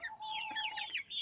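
Clucking from a rooster or hens in a backyard flock, several close chirpy clucks in quick succession without any talking.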